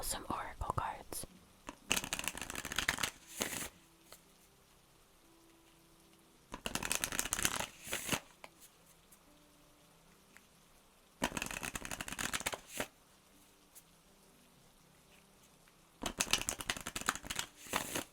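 Oracle cards are shuffled close to the microphone in four separate bursts of rapid riffling and flicking, each lasting a second or two, with soft quiet gaps between them and whispering in the background.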